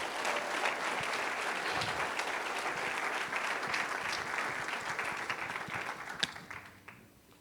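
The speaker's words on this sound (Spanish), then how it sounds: "Un aplauso para Nelson, por favor" A church congregation claps together in sustained applause, a dense crackling patter that holds for several seconds before thinning out and fading with a few last scattered claps.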